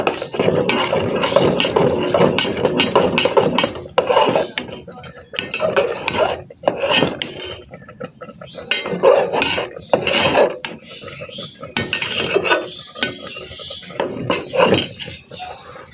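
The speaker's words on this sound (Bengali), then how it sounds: "দিয়ে ভালোভাবে নাড়িয়ে নেব" A spoon scrapes and stirs coconut payesh in a pot, making loud rasping strokes in irregular bursts with brief pauses between them, close up.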